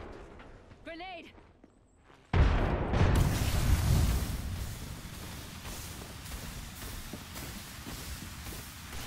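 A sudden loud grenade blast in the Apex Legends video game erupts after a quiet moment with a brief high tonal chirp, then a long rumbling, crackling tail slowly fades.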